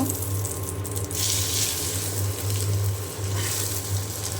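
An egg frying in a pan gives off a continuous close, even sizzle with a low steady hum beneath it, rising and easing slightly in waves.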